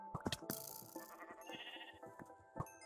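Minecraft sheep bleating in a game, several short blocky bleats mixed with clicks and other game sound effects, fairly quiet.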